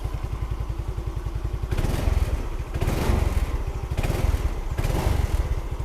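A Yamaha Xeon 125cc scooter with a newly replaced carburetor idles with a rapid, steady putter, then is revved up several times in short surges that fall back to idle, close and loud.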